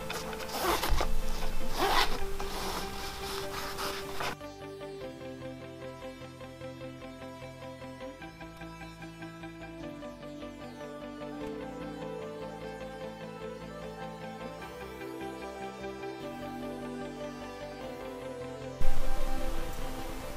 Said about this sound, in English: I'm going to grab another bit of heat insulation and slide that down over it